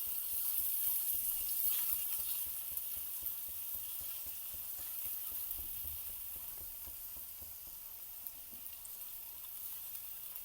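Finely chopped onions fry in hot oil for a Surat-style cheese paneer ghotala, giving a steady, dense sizzle that crackles evenly throughout with no voices.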